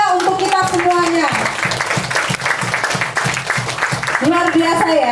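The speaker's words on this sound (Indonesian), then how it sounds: "beri aplaus yang sangat meriah untuk kita semuanya" Applause breaks out for the speakers at a one-day training event. Steady hand clapping fills the room for several seconds, with a voice talking over the start and the end.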